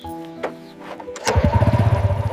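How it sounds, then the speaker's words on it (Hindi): A motorcycle engine starts up in a village setting, with some quieter rustling beforehand, then catches at once into a steady, loud, close, pulsing idle for the rest of the clip. "हम पहुंच गए, ये है मेरी मोटरसाइकिल।"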